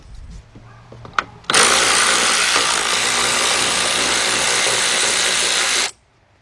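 Ratchet or power tool spinning out a bolt from the radiator of a 2006 Kia Sportage EX 2.7 during head gasket work, a few clicks then a loud, steady mechanical whir lasting several seconds before stopping abruptly.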